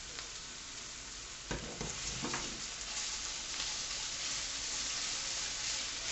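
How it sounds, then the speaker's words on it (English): Tomato puree frying in a pan for a four-bean chilli, a soft continuous sizzle with a few stirring scrapes partway through. "Get tomato puree, a couple of tablespoons full."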